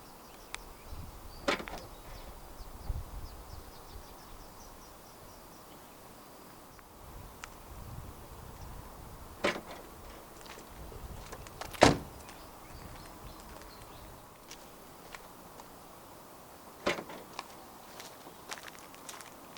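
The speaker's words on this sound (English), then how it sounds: "There are 3 ways to pop the boot lid open in this 2017 508." Boot lid of a 2017 Peugeot 508 1.6 THP unlatching, with a few isolated sharp clicks and soft thuds spaced several seconds apart against quiet background noise.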